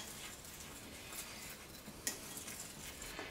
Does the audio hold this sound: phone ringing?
no